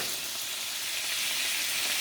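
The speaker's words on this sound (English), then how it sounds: "I'm going to go ahead and saute these vegetables" Vegetables sautéing in heated oil, a brief, steady, hissing sizzle that holds evenly throughout, with no talking.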